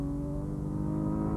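Onboard engine of the GearMax Nissan Skyline race car in a 1992 Wesbank Modifieds Class B race at Killarney, a loud steady drone with strong harmonics that holds throughout, no speech.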